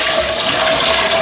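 Rinse water draining from rice being washed for Jamaican rice and peas, a steady continuous pouring and splashing rush close by with no talk.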